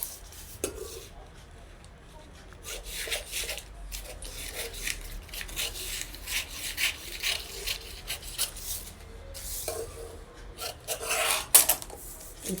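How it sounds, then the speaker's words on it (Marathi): Fabric being cut for gopi sleeves, a steady run of close rasping and rubbing snips from scissors through cloth, continuing without pause at moderate loudness. "आता आपल्याला कटिंग करून घ्यायची."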